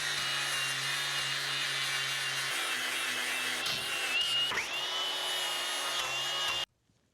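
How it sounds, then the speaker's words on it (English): A flap disc on an angle grinder scours rust and rough edges off old steel for a homemade frame connector on a 1963 Plymouth Valiant, a loud continuous abrasive hiss over a steady motor hum that cuts off abruptly. "I'll clean it up with the flap disc"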